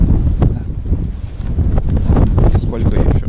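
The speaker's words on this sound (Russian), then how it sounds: "Вообще ветер усиливается." Gusty wind buffets a microphone outdoors at a riverside fishing camp, a steady low rumble with irregular bursts, partly under muffled background sounds.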